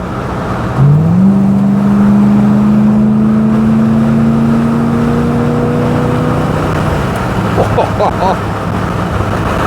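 A 1970 Chevrolet Caprice with a 350 V8 accelerates steadily back up to 70 mph, heard from inside the cabin as a loud, rising engine drone that holds and then eases off, with a voice briefly audible near the end.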